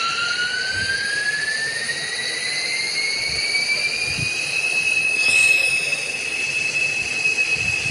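A train starts up in the video game GTA V. A steady mechanical whine climbs slowly in pitch and then levels off, loud and continuous over a low rumble.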